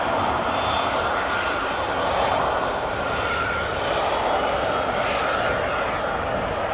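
An EasyJet Airbus A319 arriving from London Gatwick at Amsterdam Schiphol, its engines giving a steady, fairly distant broadband roar that holds level throughout with no talk over it.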